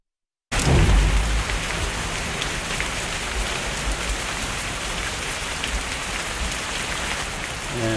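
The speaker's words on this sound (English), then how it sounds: "And we'll do a heavy rain." Heavy rain in the video game Ground Branch begins abruptly and pours steadily, a dense, loud hiss of drops on surfaces continuing without a break.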